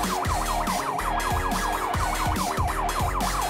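An ambulance siren wails in rapid repeating cycles, loud and close over steady road and engine noise while the vehicle moves through traffic and a roundabout, with no voices.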